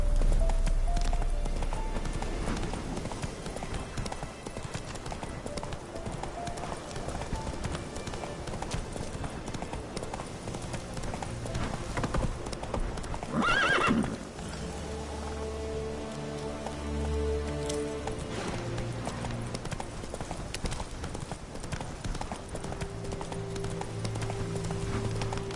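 In The Witcher 3, the horse Roach gallops with rapid, rhythmic clip-clopping hooves, and a steady hiss of rain plays alongside.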